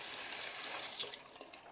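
Water runs in a strong, steady stream from a refilled residential water heater, a loud continuous hiss that tapers off and turns to faint splashing near the end.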